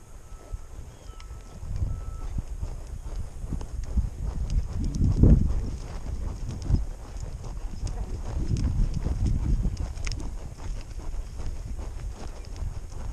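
Horse hooves clip-clopping at a canter, a steady muffled rhythm of footfalls over wind and low rumble, with a brief louder swell midway and a quiet voice at times.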